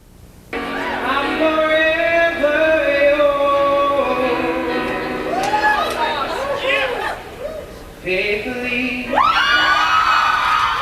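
An audience at the Ambrose Idol singing competition, a student talent event, chatters and cheers with scattered whoops and yells, loud and close, mixed with overlapping voices and a rising burst of cheering near the end.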